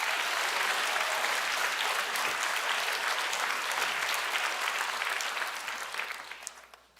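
A church congregation applauding during a sermon, a full, continuous roar of clapping that holds steady, then fades away toward the end.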